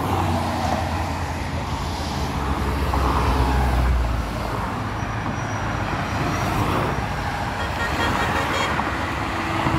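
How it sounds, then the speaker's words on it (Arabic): Two trucks roll past on a road in Germany, a loud continuous roadway rumble with tire and engine noise and faint horn tones, no voices over it. "اي اجوا شاحنتين واخيرا."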